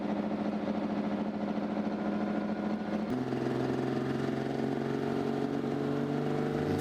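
A heavy tractor-pulling engine at a pulling championship final runs steadily, then its pitch jumps and holds at a higher, louder revving drone that continues to the end.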